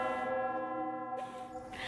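In the Love and Deepspace game, the Bell of Vows rings with a sustained, resonant tone whose harmonics hang and fade, then give way to a softer shimmer.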